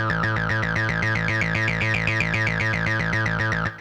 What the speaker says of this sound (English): The last type of filter that I want to show you is the acid filter.